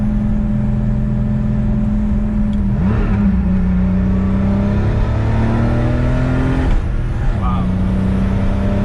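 Engine of a 1977 Porsche 911 Turbo Carrera drones steadily from inside the cabin as it pulls through gears, pitch climbing then dropping at two shifts, while occupants talk over it.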